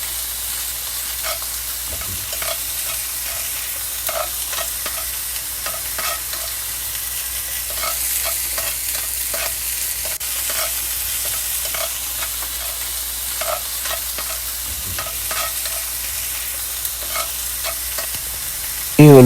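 Garlic and onion sauté in hot oil for a Filipino patola dish, a steady close sizzle and hiss running throughout, broken by frequent light scrapes and taps of stirring, with no talking.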